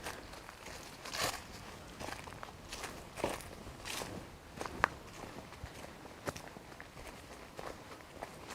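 Footsteps crunch at a slow walking pace through an ancient Atlantic woodland on the Isle of Islay, with soft irregular treads on leafy ground, fairly close but quiet, under a faint outdoor hush.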